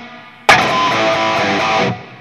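One strummed electric guitar chord rings through a Guitar Rig 5 patch with reverb, struck hard and held for about a second and a half before cutting off, loud and close.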